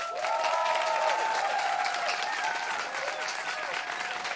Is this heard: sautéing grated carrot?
no